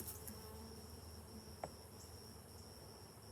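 Honeybees buzz steadily around open hive frames, a faint continuous drone with a thin high whine and one brief tap midway, no voices.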